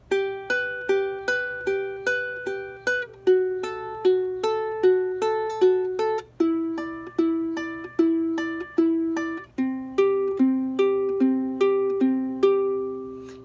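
Ukulele picking out the intro to a song, with clear plucked notes in a steady repeating pattern that rise and fall across phrases, played solo, close and moderately loud, with no voices.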